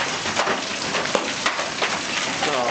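Baseball-size hail pounds and bounces off a car during a storm near Oklahoma City by Tinker AFB, a dense, continuous clattering patter heard up close from inside.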